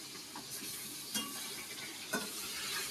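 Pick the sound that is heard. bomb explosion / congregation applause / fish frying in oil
fish frying in oil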